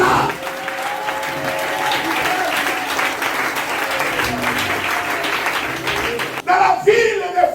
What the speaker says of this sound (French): je voudrais qu'on acclame ce Jésus-là